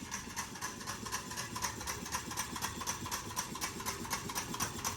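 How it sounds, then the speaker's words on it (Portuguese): Homemade Stirling engine running: a quiet, fast, regular mechanical ticking and whirring with a steady rhythm, continuous throughout. "esse é o funcionamento do meu motor Stirling caseiro."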